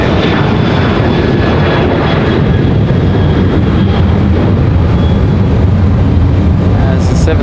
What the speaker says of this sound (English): United's still not off the runway. There they go. Finally off the runway.